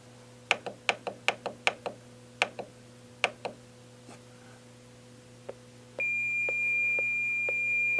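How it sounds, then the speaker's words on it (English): A President McKinley CB radio in SWR measurement mode clicks through a series of sharp ticks, pauses, then holds a steady continuous beep at close range. "right now you can hear the radio has a continuous beep"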